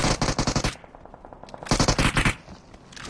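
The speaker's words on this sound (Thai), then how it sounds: "ยิงรัวยิงรัว" Two bursts of rapid automatic gunfire in a video game, each a loud run of evenly spaced shots separated by a short quiet gap, with no talking.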